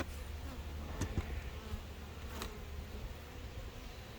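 Honey bees buzzing at an opened, crowded beehive, a faint steady hum with a few louder passes of single bees close by.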